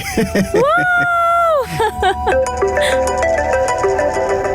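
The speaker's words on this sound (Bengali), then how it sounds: "মল্লিকার ফোন এসছে, নে কথা বল।" A phone ringtone plays, a melodic electronic tune with sliding tones, while people talk over it.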